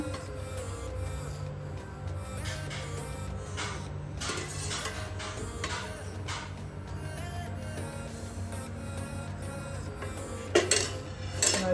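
Spinach and fenugreek chapati dough being mixed with oil in a bowl, giving steady scraping and clinking with occasional sharper knocks of a utensil against the bowl, close up and without talk.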